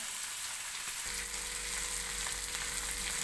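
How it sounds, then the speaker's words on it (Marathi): Spice masala fries in a pan for a Marathi-style rassa bhaji, a steady close hiss of sizzling oil with a deeper frying rumble joining about a second in and holding to the end. "सगळा मसाला पण टाकून घेतला आहे मस्तपैकी आता फ्राय करून घेते"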